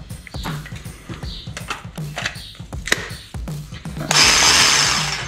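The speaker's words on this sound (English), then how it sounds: "I get to using the jigsaw." Battery-powered jigsaw cutting a part for a custom side-by-side build, heard as a series of short, close buzzing bursts that end in a louder, sustained cutting run. No talking.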